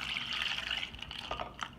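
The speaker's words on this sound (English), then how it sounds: "Put some water in here." Water pours into a cooking pot holding tomatillos and serrano peppers, a soft, close trickle and splash that is quiet and brief.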